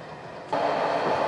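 A passenger train on the Eastern Express in Turkey rumbles along, starting quieter and jumping abruptly louder after a moment into a steady, noisy roar.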